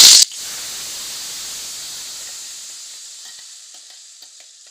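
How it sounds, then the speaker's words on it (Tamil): Mustard seeds and urad dal crackle and sizzle in hot oil for a chutney tempering. A sharp burst of spluttering opens, then a steady close hiss fades slowly, with faint pops scattered through and no talk. "எண்ணெய் சூடானோடனே நம்ம வச்சிருந்த இந்த கடுகு உளுந்தெல்லாம் ஆட் பண்ணிக்கலாம். அது கொஞ்சம் வெடிக்கட்டும்."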